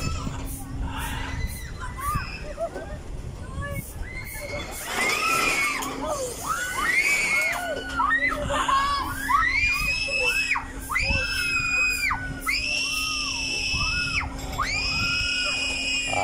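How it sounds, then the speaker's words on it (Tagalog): Crowd at the Mall of Asia in Manila, Philippines, screaming and shrieking in loud, repeated high-pitched bursts over a constant crowd din, with talk mixed in. "Mayroon talagang hindi napigilan sumigaw."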